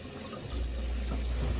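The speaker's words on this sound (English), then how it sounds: "Now my little sponge, I just want to rinse out a whole bunch." Tap water runs over a sponge being rinsed out while cleaning a pottery wheel, a soft splashing flow that swells into a fuller, heavier stream after a moment, close by.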